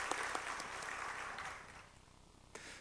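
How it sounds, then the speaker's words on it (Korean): A church congregation at a Wednesday worship service applauding the choir, a soft, distant wash of clapping that gradually fades toward the end. "아가페 찬양대 감사 영광의 박수 하나님 앞에 돌리겠습니다."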